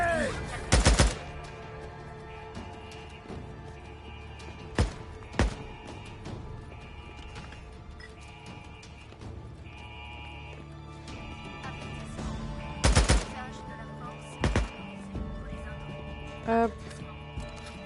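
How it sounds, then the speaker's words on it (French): Several sharp gunshots ring out in scattered bursts over a steady soundtrack with tonal music in the video game Days Gone, loud and close, with long gaps between them. "Plusieurs coups de feu ont été tirés."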